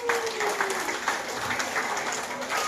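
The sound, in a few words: audience applause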